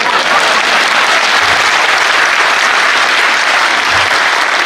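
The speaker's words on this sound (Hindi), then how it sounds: "आप सबसे निवेदन करता हूँ, मेरे स्वागत में दोबारा जोरदार तालियां बजाएं" A crowd at a Hindi poetry recital bursts into loud, dense applause that keeps up steadily to welcome the poet, with no voices above it.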